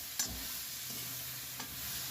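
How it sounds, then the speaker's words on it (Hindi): Two medium tomatoes softening in a pan for shahi paneer, a steady soft sizzle with a couple of brief spoon-stirring clinks, close and quiet. "टमाटर ला बढ़िया से नरम होने तक के पकाबो"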